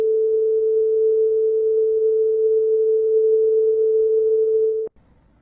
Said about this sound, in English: This diagram represents a sine wave. It is a perfect wave.